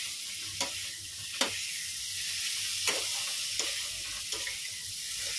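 A yam curry cooked in a little oil sizzles steadily in a pan, broken by five or six sharp spatula clacks at irregular intervals. No one talks.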